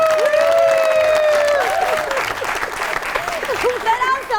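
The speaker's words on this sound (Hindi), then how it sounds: "जोरदार तालियां।" Loud studio audience applause on a comedy talk show, dense clapping that fades slightly midway while voices talk over it.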